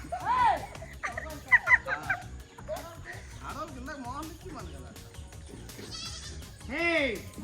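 Several loud goat bleats come in short bursts, nearby and wavering, with people talking and background noise between them.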